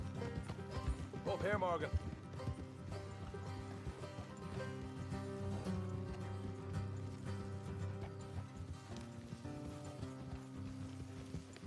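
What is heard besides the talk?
horses trotting in Red Dead Redemption 2 video game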